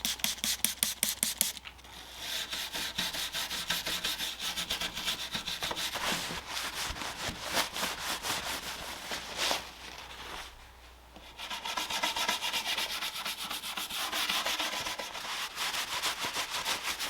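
Several brass wire brushes scrubbing old paint off a wooden antique dresser, a steady close, rough rasping scrub that runs continuously with brief pauses between strokes, no talking.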